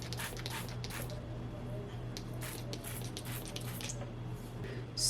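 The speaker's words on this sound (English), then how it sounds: "Then we're going to be spraying the moisturizer." A spray bottle mists moisturizer onto type 4 natural hair in a string of soft, quick hissing spritzes, fairly faint and close, with a low hum underneath.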